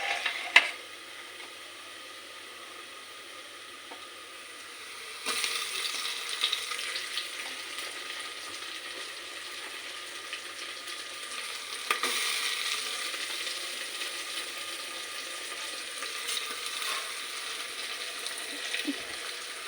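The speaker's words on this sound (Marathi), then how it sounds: "त्याच्यानंतर याच्यामध्ये आपण टोमॅटो टाकणार आहोत." Tomatoes sizzle and fry in a hot pan while khichdi is cooked, a steady bright crackle that jumps louder after a few seconds and again later, with faint clinks of a spoon stirring and no talking.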